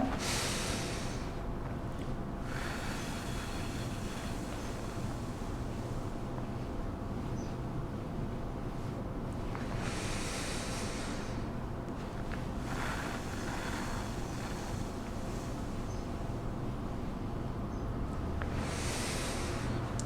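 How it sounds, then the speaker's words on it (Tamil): A person practises pursed-lip breathing, inhaling deeply and then blowing long, airy exhales out through the mouth. The breathy rushes come roughly every eight seconds and each lasts a couple of seconds, with steady background noise between them. "காற்று நல்லா உள்ளே எடுத்துகிட்டு வாய் வழியாக லாங்காக ஊதுங்க ரொம்ப நேரம் ஊதுற மாதிரி ஊதுங்க"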